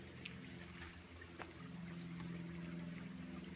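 A river flowing below a mountainside at dusk: faint, distant, continuous rushing water with a low steady hum beneath and a few soft ticks, no voices.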